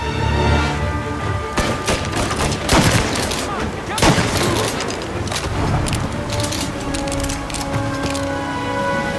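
Gunfight in the video game Mafia: Definitive Edition, with bursts of gunfire, booming shots and splintering impacts rattling continuously under a talking voice.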